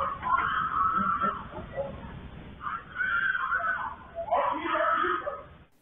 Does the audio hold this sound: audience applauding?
no